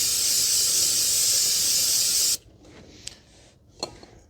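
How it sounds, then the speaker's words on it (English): Aerosol brake cleaner sprays in one loud steady hiss on the rear brake hub of a 2019 Honda Civic 2.0 with electronic parking brake calipers, then cuts off abruptly, leaving faint clicks and light handling noises. "So now I'm just going to spray this area down one last time just to clean it."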